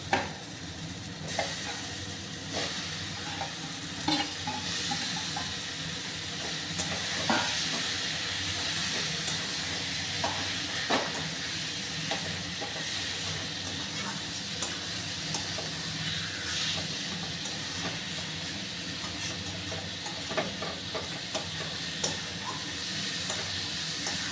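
Yogurt-marinated chicken pieces cooking in a hot pan give off a long, steady hissing sizzle, fairly quiet and close, with scattered clicks and small scraping taps throughout.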